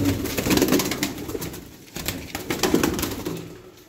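Healthy young blue pigeons coo in rolling, throaty bursts close by, with a short lull midway and a few faint clicks, no talking.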